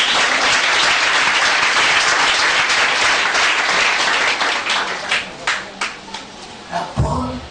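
Church congregation applauding loudly and densely to acclaim the Lord, the sustained clapping thinning into scattered separate claps and a few voices toward the end.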